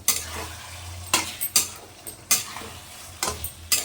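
Mutton curry stir-fried kosha-style in a pot over a lowered flame: about half a dozen sharp spatula scrapes come at irregular intervals over a soft, steady sizzle, close and fairly loud, with no voices.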